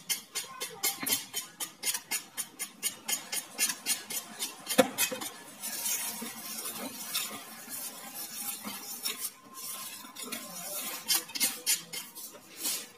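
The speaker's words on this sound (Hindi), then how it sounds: "इसको इस तरह से हम मिक्स करते जाएंगे।" A spoon or whisk beating flour (maida) into cake batter in a bowl, a brisk repeated scraping and clinking rhythm against the bowl that speeds up and slows in bursts, close and alone.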